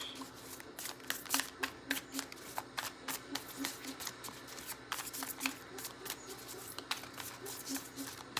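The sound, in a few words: shuffling tarot cards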